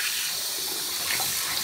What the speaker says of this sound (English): So now, I just rinse off all the